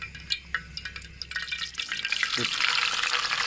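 Oil heating in a pan for Thai-style larb moo, soft pops and crackles at first that build into a steady, louder sizzle, close up with a few faint clinks.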